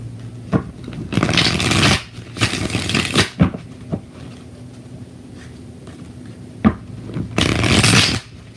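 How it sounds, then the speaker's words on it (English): Tarot cards are shuffled in several loud riffling bursts, separated by softer handling sounds and a few sharp taps. Close by, with no speech. "All right, 6 shuffles for LZ."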